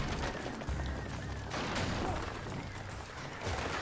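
Gunfire in the video game Alan Wake, a burst of loud, dense shots and crashes layered over a noisy game soundtrack for a few seconds.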